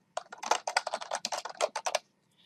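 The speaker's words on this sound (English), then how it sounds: "I'm just going to type floor plan in here" Rapid computer-keyboard typing, a quick burst of crisp, close key clicks in an uneven rhythm lasting about two seconds, then quiet.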